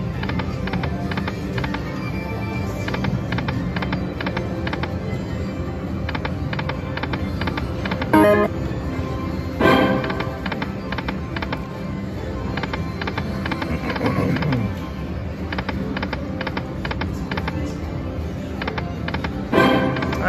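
Slot machine reels spinning at the Fantasy Springs casino, giving off a steady stream of fast mechanical clicking and ratcheting ticks over a constant loud casino hum, with a few sharper knocks.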